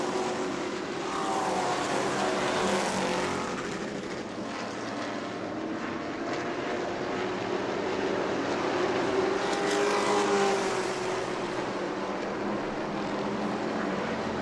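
Race cars at New Smyrna battle wheel to wheel, their engines a loud, continuous roar that swells and fades slightly as they pass. No one speaks.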